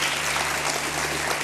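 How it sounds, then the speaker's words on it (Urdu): Audience clapping at a naat recital, a continuous, dense patter of many hands over a low steady hum, moderately loud. "تالی بجا کے اپنے ہونے کا احساس دلائیے"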